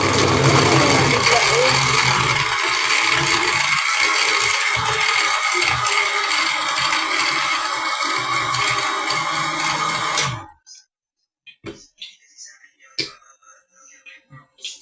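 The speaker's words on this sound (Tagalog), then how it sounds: "I-blender na natin guys." A kitchen blender whirs loudly and continuously as it blends papaya, running for about ten seconds before stopping abruptly, followed by a few faint knocks and clatters.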